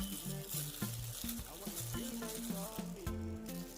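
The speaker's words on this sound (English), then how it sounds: "So let's mix this together." Asian noodle salad is tossed with its sauce in a series of soft, wet stirring and slapping sounds, close and continuous, with music playing underneath.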